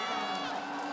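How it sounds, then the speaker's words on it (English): A large arena crowd at the esports Worlds finals shouts and cheers, a dense, sustained roar heard at a distance for about a second. "I can hear the crowds are saying no."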